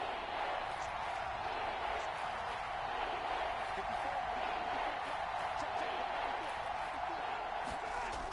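Football stadium crowd roaring steadily ahead of a big third-down play, a dense, continuous wash of voices and cheering that holds at an even level throughout.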